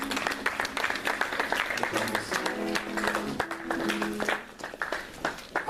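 A church congregation claps and cheers to praise the Lord during a Sunday service, steady applause throughout mixed with voices and some music tones.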